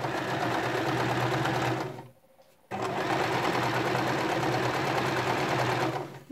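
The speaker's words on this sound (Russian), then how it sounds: "А сшиваем мы боковой шов зигзагом" A sewing machine zigzag-stitches the side seam of a swimsuit in a rapid, steady mechanical whir, stopping briefly for about half a second before running on at the same close, even pace.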